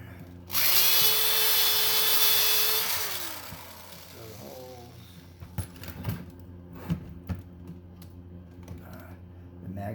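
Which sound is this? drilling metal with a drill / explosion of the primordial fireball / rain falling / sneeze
drilling metal with a drill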